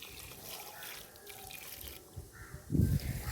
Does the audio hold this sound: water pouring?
yes